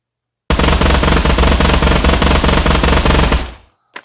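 Sustained automatic weapon fire in the VR shooter Pavlov Shack, a loud, rapid, unbroken burst lasting about three seconds before cutting off, followed by a brief faint clack.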